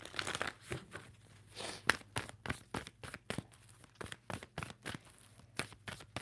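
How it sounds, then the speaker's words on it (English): A tarot card deck is shuffled in steady rapid bursts of crisp card riffling and slapping, each burst sharp and close, repeating over and over with no talking. "Two more shuffles for Libra."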